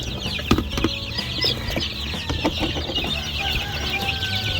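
Hungry chicks in a brooder peep and cheep busily while feeding, a dense close chorus of high calls over steady background noise, with no talk.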